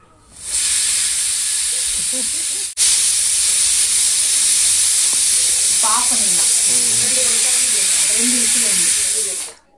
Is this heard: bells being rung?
no